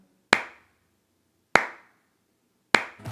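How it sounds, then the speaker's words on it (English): Three slow, deliberate claps from an audience, each sharp and isolated with long silent gaps between, spaced about a second apart and close by. "that is a slow clap bonanza if I've ever seen one"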